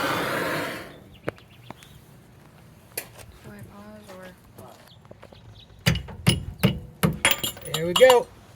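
Hammer strikes on the rear cradle bushing of a 2015 Camaro SS, a quick series of sharp metallic knocks after a quieter stretch of workshop noise and brief talk.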